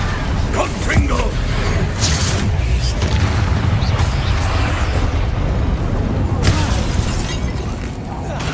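Confringo fire spell blasts in Hogwarts Legacy on PC, a dense run of booming, shattering bursts and crackling explosions layered over continuous game noise, with a person talking throughout.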